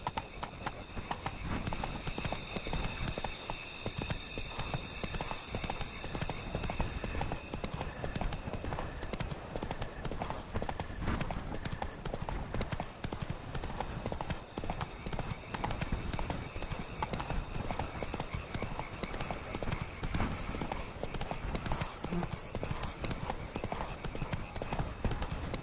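In a video game, the horse Roach walks with steady, rhythmic clip-clopping hooves, a continuous even gait under faint background game ambience.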